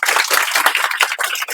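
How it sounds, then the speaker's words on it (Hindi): Audience at a coaching center event applauds, a dense, steady burst of many hands clapping close and loud throughout. "और ताली बजा दीजिए आप"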